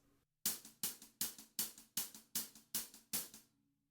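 About eight separate drum strokes in a steady pulse from a 16-beat groove played with a weak left hand, each a sharp crack that decays quickly, played alone with a short silence before the first.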